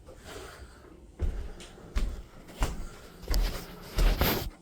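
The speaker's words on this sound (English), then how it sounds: "Open the door." Several sharp knocks and thumps, like a door or cabinet being handled and opened inside a house, land at roughly even intervals, close and fairly loud, with no talk over them.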